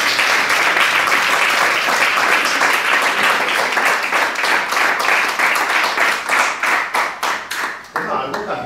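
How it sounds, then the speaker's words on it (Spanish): A theatre audience gives loud, dense applause with rapid clapping from many hands, thinning into scattered individual claps near the end. "Muchísimas gracias por un aplauso."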